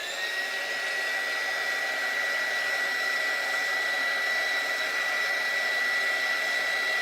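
A heat tool blows hot air over a UV DTF decorated tumbler, a steady loud whooshing drone with a high whine that runs unbroken and close for the whole stretch.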